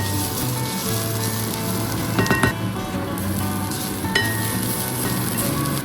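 Sliced onions frying in a modest amount of oil in a kadai, a loud steady sizzle heard up close, with a few brief clinks of a utensil stirring against the pan.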